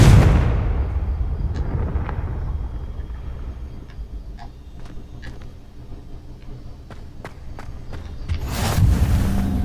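A Confringo explosion spell from Hogwarts Legacy bursts loud at the start, leaving a rumbling low tail under scattered sharp ticks and clicks, with another broad noisy burst near the end.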